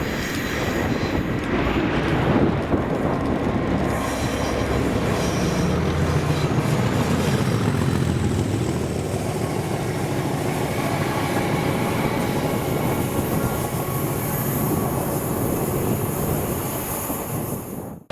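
Class 37 diesel locomotive 37884 hauling a Class 320 electric unit past on a Rail Operations Group drag, a loud sustained engine roar with rolling wheel rumble and rail clatter that fades slightly at the end.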